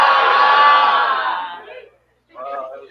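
A crowd of high school seniors at a kickoff event lets out a loud, sustained group scream as if a ship were sinking, fading out before a short burst of shouting returns.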